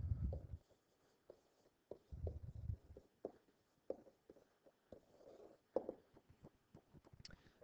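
Marker or chalk writing on a board during a chemistry lesson, soft scratchy strokes and taps in short irregular bursts, faint and close with no talk.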